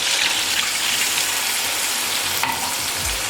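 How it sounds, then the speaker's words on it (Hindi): Spinach fries in a pan with a steady, close sizzle, then a glass of water is poured in near the end, causing a brief splash and surge. "अब इसमें 1 गिलास पानी डालेंगे"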